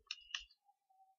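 A Debian Linux computer keyboard gives two quick, close plastic clicks as the Enter key is pressed and released. A faint tone follows, and there is no talk.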